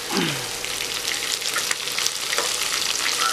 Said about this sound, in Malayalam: ഇനി സവാള ചേർക്കാം വീണ്ടും നന്നായിട്ട് ഇളക്കുക